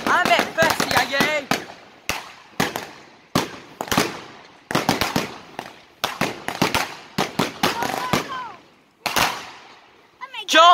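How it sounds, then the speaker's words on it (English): New Year fireworks and firecrackers explode in a rapid, irregular volley of loud, sharp bangs and crackles that keep erupting one after another, with excited voices shouting between the blasts. "Oh my god, more fireworks!"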